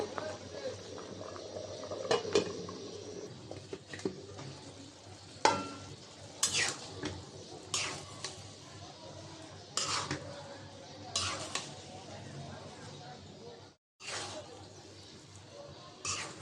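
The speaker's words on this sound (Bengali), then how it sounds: "নাড়াচাড়া দিতে আছি চালটা আর একটু সিদ্ধ হবে" Beef biryani rice in a pot, nearly cooked, stirred on low heat: intermittent spoon scrapes and clanks against the pot over a soft bubbling simmer, with a short pause near the end.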